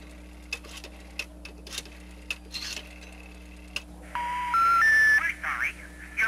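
A telephone number is dialed: a run of short keypad beeps and ticks is followed by louder sustained DTMF tones and rising tone steps near the end, close and clear over a low background hum.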